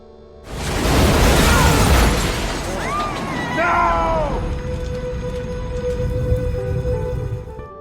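A big blast in a film, set off in a building lobby, erupts and roars loudly for a few seconds, then settles into rumbling debris with distorted, warbling tones over a lingering low hum.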